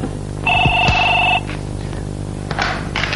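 A telephone rings in a Hindi-Urdu radio drama serial: one steady electronic ring of about a second over a humming background, followed by faint clicks and noise.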